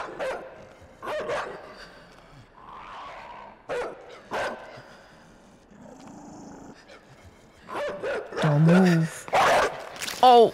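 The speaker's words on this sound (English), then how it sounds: "We're watching a dog eat a child." In the video game Inside, a dog barks and snarls while attacking, with growls and sharp barks rising toward the end, mixed with gasps and people talking over the game.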